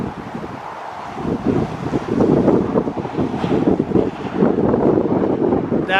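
Strong wind from an incoming haboob dust storm roars and buffets the microphone in Green Valley, Arizona, as a loud, continuous rush throughout.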